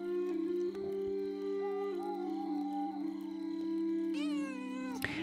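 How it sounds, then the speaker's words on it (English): Schlau, the cat in the game Pentiment, gives drawn-out meows while being petted, sustained tonal cries that rise and bend, growing more insistent toward the end, with a steady hum of game ambience underneath. "Cats sound like that."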